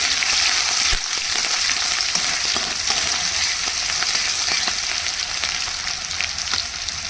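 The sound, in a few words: onion, green chili and garlic frying in hot oil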